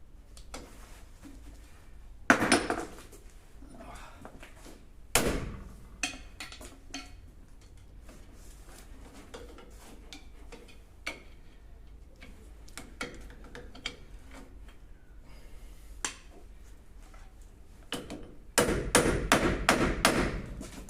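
Hammer blows knocking at a worn wheel bearing on a Land Rover Defender 200Tdi, sharp metallic thumps spaced a few seconds apart at close range, ending in a louder, denser burst of rapid strikes.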